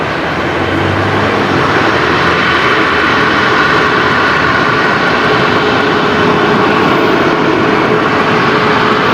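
Qantas airliner taking off from runway 19 left at Brisbane Airport, its jet engines a loud, steady broadband roar that fills the whole stretch without letup.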